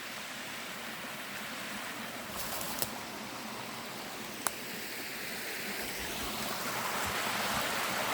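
A woodland brook in Northern Maine pours over a small waterfall, a steady close rushing wash that swells slightly toward the end, with a couple of sharp clicks and no talk.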